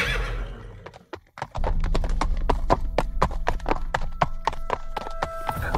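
A horse's hooves clip-clop in a quick, even trotting rhythm, loud and close, continuing steadily after a short whinny at the start.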